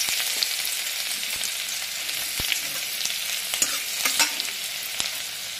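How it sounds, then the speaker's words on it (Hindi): Garlic fries in hot oil in a kadhai with a steady, close sizzle and a few sharp crackles and pops throughout. Nobody speaks. "देखिए, तेल गरम हो गया है, हम पहले इसमें लहसुन को डालेंगे।"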